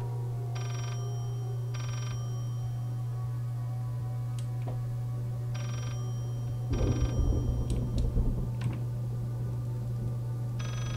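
A telephone rings in short repeated bursts inside the horror video game Layers of Fear, trilling at even intervals over a constant low hum, with a brief scuffling clatter partway through and no talking.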